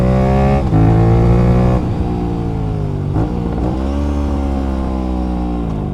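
A motorcycle downshifts using engine braking with rev matching during clutchless shifting, its loud, close engine drone dropping and jumping in pitch at a couple of abrupt gear changes before settling into a steady, slightly falling tone.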